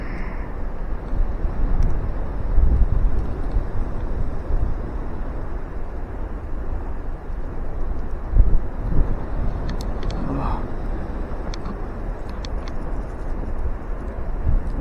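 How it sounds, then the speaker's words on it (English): Wind blowing hard across open fields during a January snowstorm in Iowa, a constant rough roar with gusts buffeting the microphone and no voices. "Wind's starting to blow pretty good, especially out in the field"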